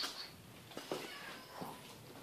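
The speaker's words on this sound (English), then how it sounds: "My cat out there meowing." A cat meows outside a garage where a Subaru engine is being separated from its transmission: two or three short, faint cries in quick succession, distant and quiet against low room noise.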